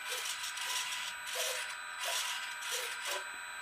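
Quiet electric whirring from an elevator servo on a Sport Cub S RC plane during a pre-flight control check, several brief back-and-forth bursts in a row, heard up close with no talking.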